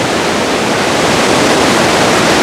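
Loud, constant rushing water in Bavaria roars like a nearby waterfall or torrent, a dense wash of noise that fills everything, with no voices.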